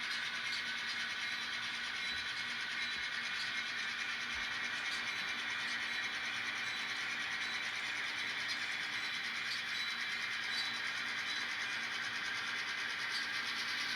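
A long model train with a CSX locomotive in the consist rolls along a home layout, giving a steady, even running hum and faint rail noise that holds at a constant level throughout with no talking.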